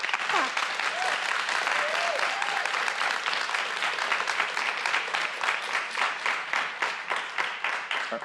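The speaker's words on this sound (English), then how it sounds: "Are you clapping because he's leaving, or what he said?" An audience at a public meeting claps steadily and at length, a broad wash of hand claps with a few voices briefly rising underneath.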